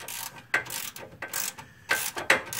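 A ratchet loosens a strut screw on a Mercedes C180's front suspension, giving off quick, close metallic clicking in several short bursts separated by brief pauses.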